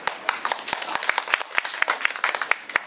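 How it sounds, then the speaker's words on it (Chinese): An audience applauds at a neighborhood construction briefing meeting, with steady, fairly close clapping from a small crowd through the whole clip. "好，拍手，谢谢。"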